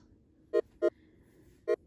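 Triangle-wave synth from a three-oscillator patch playing a bouncy, light progression: three short, soft plucked notes with gaps between them, clean and close with no voices.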